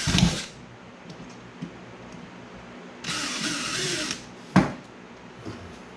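A stainless steel screw is driven into a cooler being converted into a homemade live well: one close, brief drill whir of about a second, with a few clicks and knocks around it.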